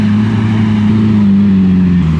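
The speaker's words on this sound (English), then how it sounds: "Just listen to that Aventador. These things sound so crazy." A Lamborghini Aventador at a hill climb gives a loud, steady engine drone, close by and held at an even pitch that sags slightly toward the end, with no voices.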